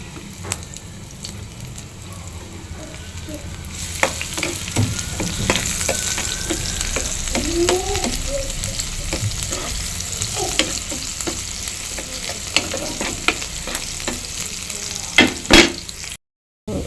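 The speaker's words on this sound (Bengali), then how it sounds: "এদিকে হয়ে গেছে বাঘারের পেঁয়াজ রসুন ভাজা" Onion and garlic sizzle and crackle steadily in hot oil, with occasional stirring clatters, close and loud, no voices.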